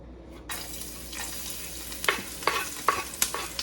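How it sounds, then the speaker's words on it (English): Ginger, garlic and chilies land in oil heated nearly to its smoke point, so a sharp sizzle bursts in after a brief quiet and carries on with clattering stirring hits. "my oil is super hot. It's reaching nearly its smoke point, and I'm gonna put in, first of all, my ginger, garlic, and chilies"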